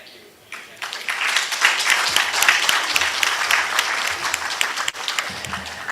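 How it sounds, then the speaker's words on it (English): Audience in a conference room applauding a panel at a summit, a dense sustained round of clapping that swells quickly and holds steady for several seconds. "it requires a bigger round of applause for our entire panel"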